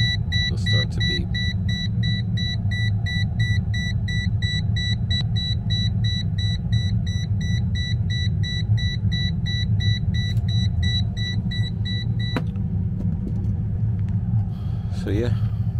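A Toptes PT-520B+ combustion gas leak detector beeps in a rapid, steady pulsing pattern for about twelve seconds, then stops, heard over a constant low engine-like rumble.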